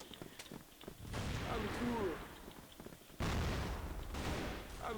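Grenade thrown and exploding in the online shooter CrossFire, heard as two loud, sustained blasts of rumbling gunfire-like noise about a second apart amid game combat sounds.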